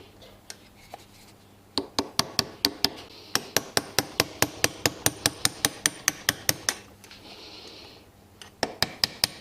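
Rapid metallic hammer blows tightening a nut on a Honda CRF50 GB4 engine, dozens of sharp, evenly spaced strikes in bursts, close and loud, with brief pauses between runs.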